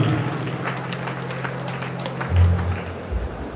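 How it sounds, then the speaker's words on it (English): An audience at a good governance symposium in a hall claps steadily, a dense crowd patter that swells briefly near the end, with some murmuring underneath. "Please continue clapping for him."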